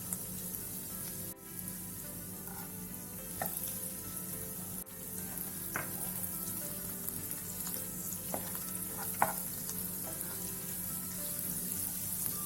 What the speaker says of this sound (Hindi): अब मिर्च के बाद मिर्च हमारी भून गई है